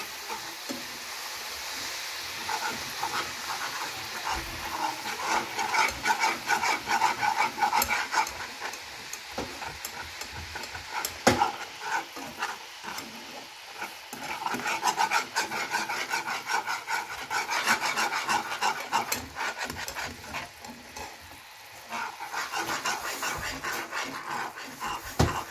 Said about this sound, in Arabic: انا غادي نكمل هكا في التحريك حتى نذوب داك الكراميل كامل